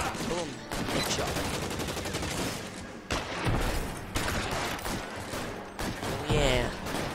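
Gunfire in the video game L.A. Noire: dense, loud bursts of shots, with brief breaks and some voices mixed in.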